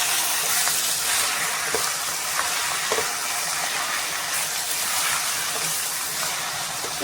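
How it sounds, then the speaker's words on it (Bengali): Chicken skin frying with onion in hot oil, a steady bright sizzle and hiss running throughout with a few small pops and crackles, close and even in level. "এটা তেলে পেঁয়াজের সাথে একটু ভালো করে ভেজে নেব"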